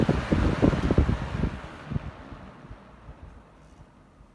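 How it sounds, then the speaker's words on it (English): A 1960s Eskimo 12-inch box fan by McGraw Edison, model 121050, set on high, gives a close, breathy whir with a low flutter that fades steadily after the first second and a half. "This is my Eskimo by McGraw Edison, model 12-10-50, 12-inch box fan"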